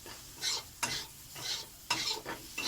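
Fried rice is stirred in oil in a pan with egg, onion and green chilli: rhythmic spatula scrapes repeat over steady close sizzling, with about five strokes in under three seconds.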